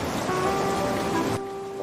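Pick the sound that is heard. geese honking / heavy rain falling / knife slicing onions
heavy rain falling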